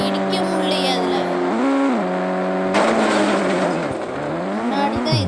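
Car engine in the mobile game Indian Bike Driving 3D (moon gravity mode), revving with rising and falling pitch, close and loud, with a sudden burst of noise midway and a person talking over it.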